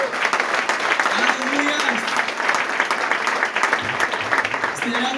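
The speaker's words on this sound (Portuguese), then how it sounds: "Vamos aplaudir o Senhor por isso?" Applause from a church congregation, dense sustained clapping filling the room for the whole stretch, with a voice calling out over it near the end.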